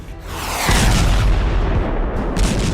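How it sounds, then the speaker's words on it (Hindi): Bomb explosions from a war-attack trailer, a deep, heavy rumbling blast that swells after a moment and rolls on with dense low thunder, loud and close with no speech. "जिसमें आसमान से दनादन बम बरसता है"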